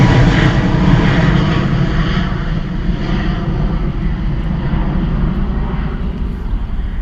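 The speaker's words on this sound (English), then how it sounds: "Gorgeous departure from our Ryanair Boeing" Ryanair Boeing 737 departing Bristol Airport on a hot day, its jet engines producing a loud, steady broadband roar throughout, close and continuous with a slight wind rumble and no talking.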